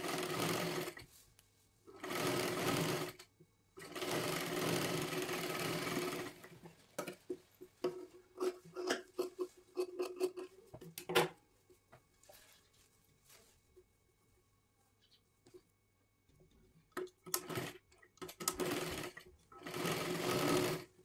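A sewing machine stitches a size-36 three-piece princess blouse in loud, steady bursts of rapid stitching. The bursts are separated by short pauses, with lighter handling clicks and rustles in between.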